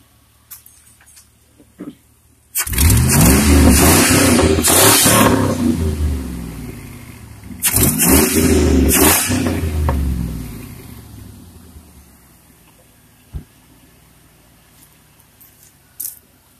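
A 2000 Chevy Silverado 1500 with a 5.3 Vortec V8 revs hard twice with loud, raspy straight-piped exhaust, each burst building then dropping back to a quiet idle with faint clicks.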